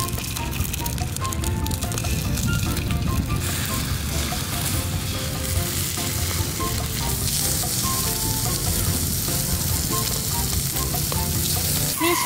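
Pork fat sizzles and spatters steadily on a hot Thai moo kratha grill pan, a loud, crackling hiss that persists throughout.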